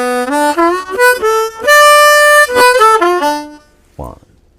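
Blues harmonica in second position plays an improvised lick moving from the V chord down to the IV chord, with bent, wailing sustained notes in a loud, close run that breaks off before a short final blast.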